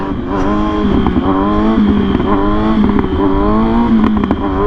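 A 600cc sport motorcycle engine held high in the revs through a wheelie, loud and close, with a steady harmonic drone that rises and dips slightly as the throttle is modulated, no voices.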